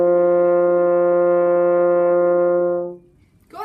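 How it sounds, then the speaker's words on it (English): A single F French horn holds a steady, sustained concert C, a full, clear tone lasting about three seconds before it fades out, followed by a brief breath or voice onset. "So C sounds like this."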